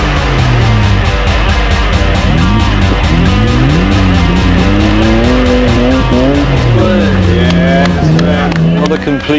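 A Peugeot 306 V6 sets off on a hillclimb run at Prescott, its engine revving loudly and rising through the gears close by with tire squeal. A commentator talks over the car.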